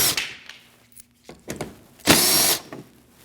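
Power tool backing out 8mm bolts inside the front wheel well of a Jeep Cherokee, heard as several short close bursts of whirring, the last and longest near the end, separated by pauses.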